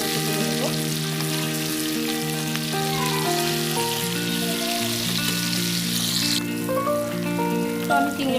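Golda shrimp (prawns) fry in hot oil in a pan, giving a steady, dense sizzle that holds close and even throughout, with faint tonal background music running underneath.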